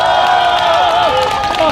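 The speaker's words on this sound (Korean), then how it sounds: "다시 한번 박수 한번 부탁드리겠습니다." Rally crowd at an outdoor political gathering in Daegu clapping and cheering continuously, with whoops rising over steady broadband applause, a voice audible over it.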